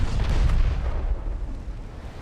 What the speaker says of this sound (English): More ammo detonations.